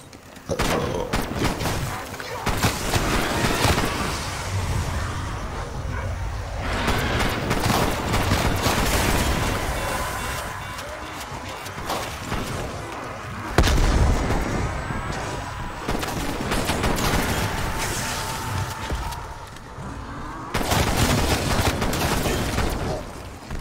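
Dense video game gunfire with rapid shots, booms and bursts runs on throughout, loud and close, under a busy mix of game effects.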